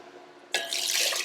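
Water gushes into a cooking pot as six cups are added for a lentil salad, a bright rushing pour that starts abruptly after a quiet moment and keeps going strongly to the end.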